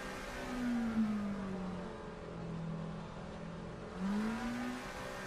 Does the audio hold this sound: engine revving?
yes